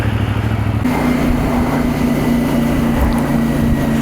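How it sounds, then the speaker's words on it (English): A CFMOTO MT450 motorcycle engine idles with a low, steady, grumbling rumble, loud and close, its pitch settling slightly after the first second. "Oh, that engine sounds absolutely lovely. It's a right little grumbly little engine."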